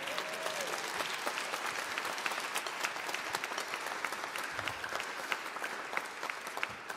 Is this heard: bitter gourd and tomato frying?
no